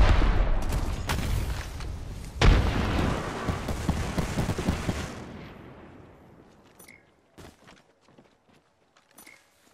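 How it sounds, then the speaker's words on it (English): A frag grenade goes off in Apex Legends during a battle royale firefight, a loud close boom at about two seconds within dense ongoing gunfire and rumble that gradually fades into sparse distant shots. "Frag out!"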